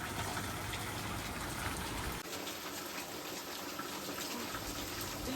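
Waterfall pouring over rocks along a rocky hillside trail, a steady broadband rush of falling water that stays loud and continuous throughout with no voices.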